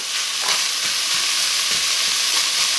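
Chopped meat and bacon sizzle steadily in a cast iron pot while a spoon stirs through them, giving soft scraping strokes every second or so over a constant close frying hiss.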